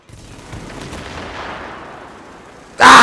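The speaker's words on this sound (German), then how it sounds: "Schießen die schon?" Gunfire in The Division's Dark Zone PvP, a dense, sustained burst of shots over about three seconds, followed by a sudden much louder blast at the end.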